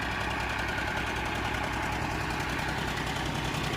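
Five large water pump motors run with a loud, steady hum and rattling vibration, draining floodwater near the Amaravati High Court, continuous and close, with no voices.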